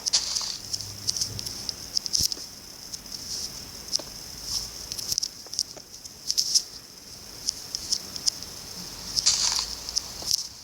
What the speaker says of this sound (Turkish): Arkadaşlar yine yağmur yağıyor ya.